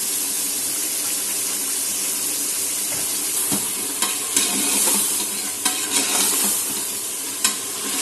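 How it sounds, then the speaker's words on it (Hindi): Tomato masala with vinegar fries in a pan, sizzling steadily under repeated stirring scrapes and clacks from a spoon; close and fairly loud, with no speech. "बस इसको इतना भूनना है कि टमाटर जो है इस तरह से गल जाए"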